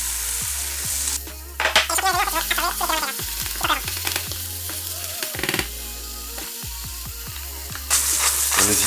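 Mushrooms and the white parts of onions sizzle and fry in a pan, with crackling, the scrape of stirring and clatter of utensils, close up and with no voices.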